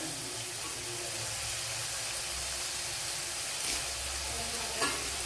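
Shallots sautéing in a pan for a Kerala dry mackerel curry, a steady soft sizzle with faint stirring scrapes and a couple of light clinks, no talking.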